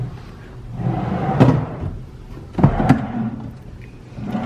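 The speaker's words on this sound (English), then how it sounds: "But we've got some drawers." Wooden drawers in a studio kitchenette at Boulder Ridge Villas, Disney's Wilderness Lodge, slide and bump shut, with two close, distinct knocks and a quieter rattle in between, with no talking.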